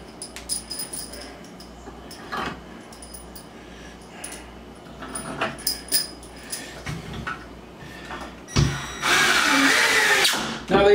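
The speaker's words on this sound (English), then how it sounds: "We're going to grab our drill." A power drill drives screws into a Greyleigh Bellmead twin-over-twin bunk bed, with short whirring bursts between clicks and handling noise, then a longer, louder sustained run near the end.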